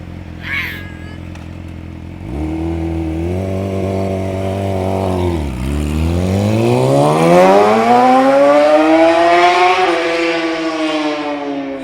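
A 2006 Yamaha R6 sport bike with a Toce exhaust starts quiet, then pulls away loud and close, engine note climbing steadily through the gears with a brief dip on a shift, the exhaust roaring harder as it accelerates down the street.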